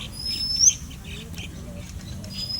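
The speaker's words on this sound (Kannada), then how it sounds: "ಇಲ್ಲೆಲ್ಲ ಪ್ರಾಣಿ ಪಕ್ಷಿಗಳು, ಅಳಿಲುಗಳು, ಪಾರಿವಾಳಗಳು, ಪಕ್ಷಿಗಳು ಎಲ್ಲ ಬಂದು ಕೂತಿರುತ್ತೆ" Small birds give short, thin chirps and a high whistle in Lalbagh botanical garden, Bengaluru, fairly faint over a low outdoor rumble with distant voices.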